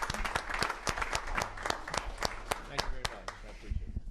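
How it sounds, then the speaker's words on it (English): Applause at a MARTA Oversight Committee meeting, steady clapping from a modest group in a meeting room that keeps going for about four seconds, with voices murmuring underneath. "I think he's earned a second round of applause."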